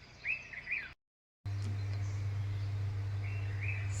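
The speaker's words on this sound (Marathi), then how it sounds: "सकाळ सकाळचे पक्षी कसे असे चिव चिव चिव करतात" Morning birds chirp in a few short, bright bursts at moderate distance, once near the start and again near the end, over a steady low hum, with a brief silent gap between.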